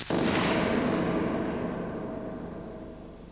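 Cannon fire a salvo in one loud, sudden blast that rumbles and fades slowly over several seconds, with no voices over it.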